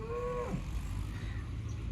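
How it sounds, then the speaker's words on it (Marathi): A Holstein Friesian cow at the Loni cattle market gives one short low moo that fades out within half a second, heard over steady loud market background noise. "ही गाय एच क्वालिटीची गाय आहे हॉस्टेन फ्रिझिलियन जातीची गाय आहे"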